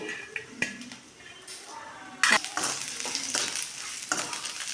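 Onions fry in two or three spoons of oil for a dry brinjal stir-fry, a steady close sizzle broken by sharp clinks and scrapes of stirring, louder and busier in the second half.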